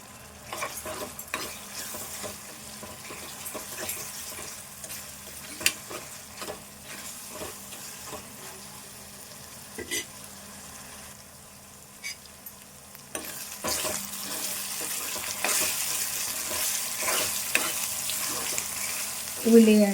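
Onion frying in a pan, cooked for a country chicken curry, produces a steady soft sizzle with intermittent stirring scrapes and clicks, and the frying grows louder and busier in the later part.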